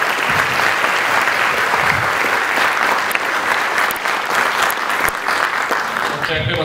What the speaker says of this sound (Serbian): Još jedan aplauz za sve učesnike u filmu